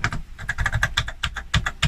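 Rapid, irregular key presses on an Oric Atmos home computer's full-travel keyboard with proper key switches, a close, crisp clatter of individual clicks with no voices.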